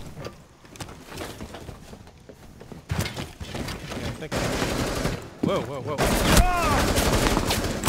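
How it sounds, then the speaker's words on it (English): Gunfire in Rainbow Six Siege on the Chalet map in a terrorist hunt, with bursts of rapid shots and automatic fire growing louder toward the end, mixed with footsteps, breaking debris and brief talk. "There's someone shooting through that murder hole"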